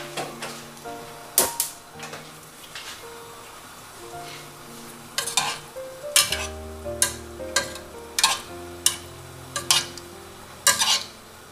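A pot of pumpkin in coconut milk on a crowded stovetop is stirred, a spoon knocking and scraping against the pot in repeated, fairly regular clinks that grow more frequent, close by under a low simmering hum, with no talking.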